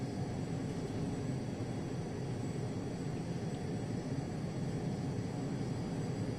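Aircraft taxiing to the runway for takeoff, a steady low engine drone with broadband rushing noise, even and continuous without change in level.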